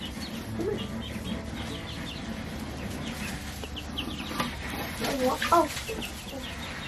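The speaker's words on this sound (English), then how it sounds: "Hey, chickies, come here." Chickens cluck in a backyard garden flock, soft and scattered throughout, with a brief flurry of louder clucks near the end and a single short word spoken over them.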